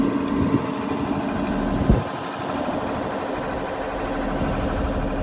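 A boom lift engine runs at a steady idle with a light, buzzing drone, broken by one brief thump near the middle before it settles back into an even rumble.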